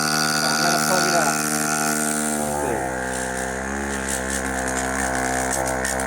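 An air pump runs with no pressure, a loud steady motor drone with a strong harmonic hum that shifts pitch once partway through, running continuously up close.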